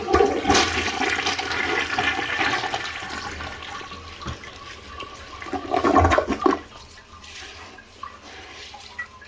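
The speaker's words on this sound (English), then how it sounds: "Let's go ahead and flush it again." A neglected toilet, being cleaned with an acidic bowl cleaner, flushes with a loud rushing swirl of water that surges and gurgles for several seconds, then drains away to a quieter trickle, with no one talking.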